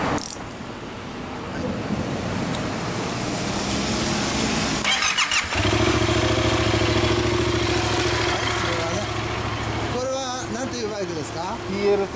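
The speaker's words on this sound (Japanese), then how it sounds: "ヤマハの FT-07。 エンジン音聞かせてもらえますか？" Stock Yamaha MT-07 motorcycle engine running close by, a steady mid-pitched idle with revs that rise and fall, heard under people talking.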